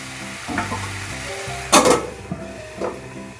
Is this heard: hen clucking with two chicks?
no